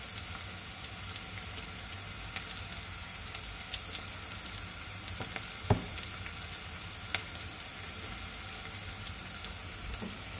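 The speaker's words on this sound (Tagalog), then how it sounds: "Lutuin lang natin saglit yung sibuyas tsaka bawang." Onion and garlic sauté briefly in a pan with a soft, steady sizzle and faint crackle. Occasional light clinks sound over it, and no one speaks.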